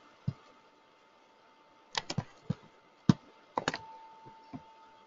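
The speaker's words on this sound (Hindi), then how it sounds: "रूल नंबर 1 हम टाइप करते हैं" Scattered keystrokes on a computer keyboard, a few isolated taps followed by quick clusters of clicks, crisp and close against a quiet room.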